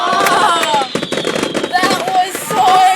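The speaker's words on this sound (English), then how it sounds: "I'd just watch the fireworks." Fireworks crack and burst in a rapid, overlapping string of sharp reports and crackles, loud and close, with people talking and exclaiming among the explosions.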